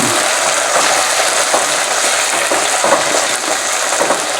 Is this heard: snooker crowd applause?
no